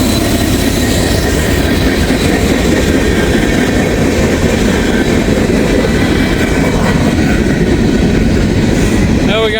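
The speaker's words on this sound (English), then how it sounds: "We got a train coming." Train passing at Oak Park, Wyoming, a loud, close, continuous rolling rumble of wheels on rails with a brief wheel squeal near the end.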